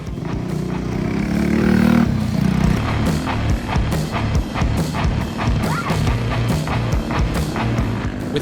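Mini bikes race in a three-hour enduro with over a hundred teams, engines revving near at first, then giving way to rattling, clattering bursts and passing engine noise.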